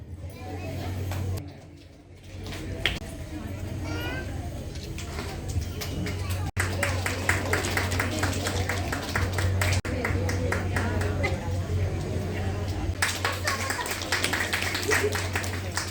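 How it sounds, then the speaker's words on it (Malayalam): Clapping from an audience at a temple festival in Kerala after a Thiruvathirakali dance performance, scattered and moderately loud, mixed with a loudspeaker voice and background hum throughout. "ഒരു നല്ല കൈയടി കൊടുത്ത് ഇവർക്ക് പ്രോത്സാഹിപ്പിക്കുക."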